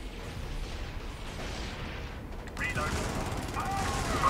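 Gunfire in the video game Helldivers, a dense rumble of shots that swells louder partway through and keeps building, with muffled battle noise beneath.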